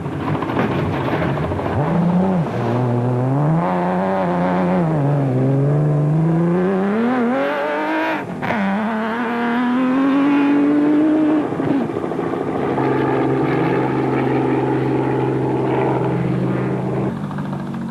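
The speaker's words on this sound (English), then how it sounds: "Cox and Pitchford were on a charge in the proudly South African Nissan Hardbody." A Nissan Hardbody rally truck races in the Toyota 1000 desert rally in 2005, its engine roaring continuously and loudly, pitch climbing and falling through gear changes and revs.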